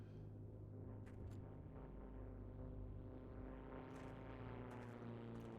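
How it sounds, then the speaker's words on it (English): Paratrooper transport planes droning overhead in the battlefield game Heroes & Generals, a steady low propeller hum that holds for several seconds, with a few faint clicks on top. "you got the paratrooper planes coming overhead"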